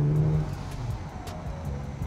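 A bagged Lexus IS350 (XE30) rides low on the road, giving a steady, close engine and road rumble with a faint whine over it. No one speaks.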